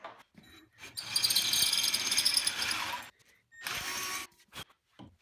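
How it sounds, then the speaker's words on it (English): A power drill boring a hole through a router table fence, using the fence cam as a drill guide: a loud whirring burst of about two seconds, a pause, then a shorter second burst, close and with no talk. "And I'll use the cam as a drill guide to drill the other side."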